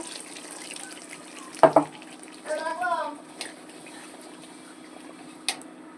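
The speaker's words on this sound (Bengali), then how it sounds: "এবার আমি একটু এতে পরিমাণ মতন জল দিয়ে দেব" Water runs from a tap into a pot of mutton being cooked. Two short splashes are followed by a brief gurgling pour, close by, under a steady hum of background noise.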